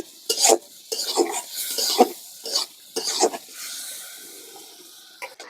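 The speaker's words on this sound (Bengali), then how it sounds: "আমি এই যে তেল দিয়ে টাকি মাছগুলো ভেজে নিচ্ছি" Small taki fish, rubbed with salt, turmeric and chili powder, frying in oil in a home kitchen, with repeated stirring and scraping strokes over a soft sizzle, close and fairly quiet.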